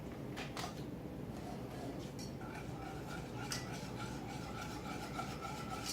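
Sour cream and sauce whisked in a dish, a continuous close scraping and rubbing of a whisk against the bowl, steady and fairly quiet throughout.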